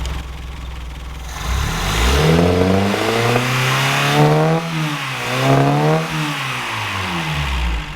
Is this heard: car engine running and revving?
yes